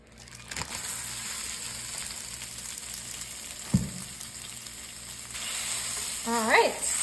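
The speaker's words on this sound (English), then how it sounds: "we are just gonna cook up our breakfast sausage in our cast iron skillet" Breakfast sausage cooks over medium heat in a cast iron skillet with a continuous moderate sizzle, a couple of sharp knocks from a utensil against the pan and a brief squeak near the end.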